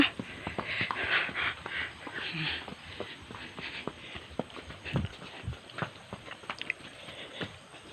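Horse hooves clip-clop on a mountain trail in an uneven walking rhythm, soft and moderately close, with occasional quiet voices.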